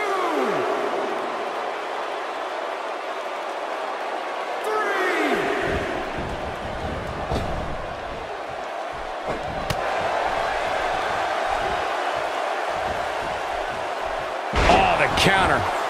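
A wrestling arena crowd in Memphis roars steadily for the whole stretch, a dense wash of cheering with occasional slams and sharp peaks, swelling again near the end.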